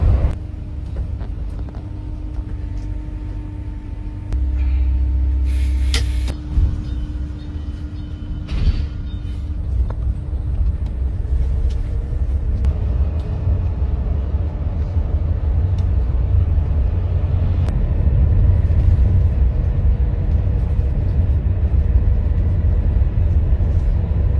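A Sumber Alam electric bus cruises along a toll road, its cabin filled with a steady low road rumble and hum, punctuated by a few brief knocks and rattles, with no one talking.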